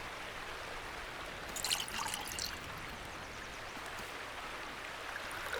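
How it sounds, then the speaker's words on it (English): Water filling a container in The Last Plague: Blight, a steady soft trickling pour running throughout, with a brief burst of splashing near the start. "It's kind of cool how it actually fills up the thing with water"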